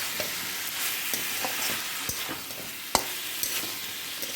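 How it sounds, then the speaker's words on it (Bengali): Spices being sautéed with salt in a pan on high flame for a Bengali jackfruit curry, giving a steady soft sizzle with occasional sharp scrapes and taps of a stirring spoon, close and alone. "এবার সব মশলাগুলোকে একসাথে ভালো করে কষিয়ে নেব।"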